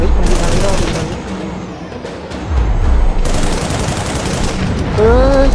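Gunfire in the video game Project Nimbus, with bursts of rapid shots and booms that fill the mix throughout, while a player talks excitedly over the action.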